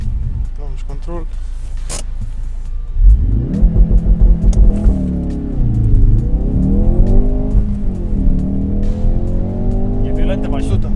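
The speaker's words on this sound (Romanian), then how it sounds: "Launch control." A Ford RS car launches under launch control, the engine holding revs and then roaring through hard acceleration with rising and falling gear-change sweeps, loud and close from inside the car; people talk over it.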